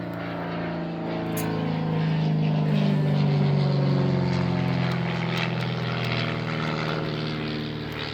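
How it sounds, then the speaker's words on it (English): A propeller airplane passing overhead outside a home, a continuous droning engine rumble that swells to a peak midway and slowly eases, loud and steady throughout. "there's a plane flying by. I know you guys can hear that."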